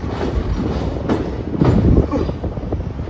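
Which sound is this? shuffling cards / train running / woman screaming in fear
train running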